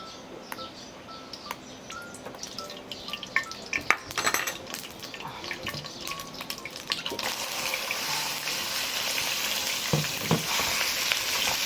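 Pork stir-frying in about four tablespoons of cooking oil in a wok makes a constant sizzle with scattered clicks and stirring knocks, turning louder and denser partway through.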